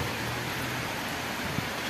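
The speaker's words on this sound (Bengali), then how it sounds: "বৃষ্টি খুব জোর পড়ছে" Steady, dense hiss of heavy rain pouring without a break, a constant wash of noise with one faint knock near the end.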